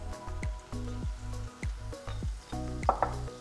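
A salty-sweet braising sauce of salt and sugar for drunken chicken is stirred in a pot on the stove, with rhythmic wet swishing and soft clunks in repeated pulses, close and moderately loud.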